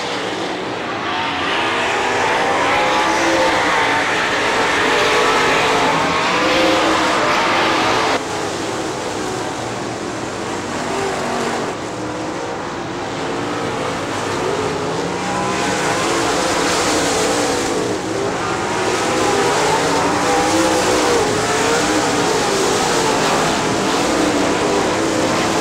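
Late model race cars roaring around Crystal Motor Speedway, a loud continuous engine drone with cars swelling and fading as they pass, sustained throughout.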